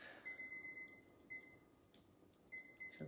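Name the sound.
kitchen timer beeping, weak batteries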